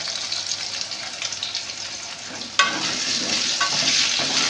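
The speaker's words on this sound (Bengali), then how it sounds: "এবার আমি আলুটাকে একটুখানি নেড়ে দিয়ে দেবো" Potatoes frying in a pan with salt, a dense, steady hiss of oil that jumps louder partway through as they are stirred, close up with no talk.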